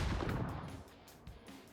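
A couple of muffled, booming PUBG gunshots with echoing tails, fairly quiet, like game gunfire heard at a distance.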